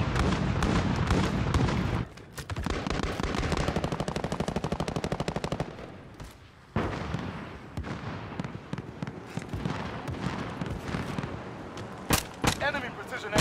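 Rapid automatic gunfire and explosions from a Call of Duty Modern Warfare multiplayer match, loud and dense with bursts, brief pauses and sharp cracks throughout, under in-game radio voice callouts.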